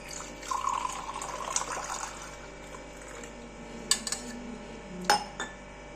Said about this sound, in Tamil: அதனால இந்த தண்ணி எடுத்து இதில் ஊற்றிக்கலாம்.